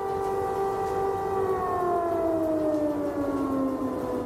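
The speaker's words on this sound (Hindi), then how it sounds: "कीव में पिछले 2 दिन से थोड़ी थोड़ी देर पर सायरन बज रहा है" A wailing air raid siren in Kyiv holds a long, loud tone that slowly slides downward, steady and continuous with nothing else over it.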